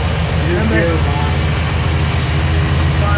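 A 1984 Chevy pickup truck engine with an MSD billet distributor idles steadily with a low, constant rumble that never changes throughout.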